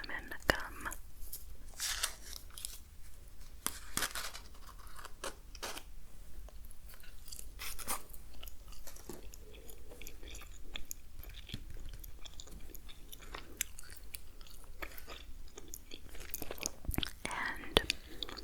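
Extra cinnamon gum is chewed close up with soft, moist smacks and crunches, mixed with quiet whispered talk and faint rustling throughout.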